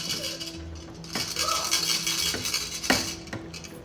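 Boiled rice is spooned into a pot of finished korma, with metal spoon scrapes and clinks against the pot coming in a few separate bursts, close and moderately loud.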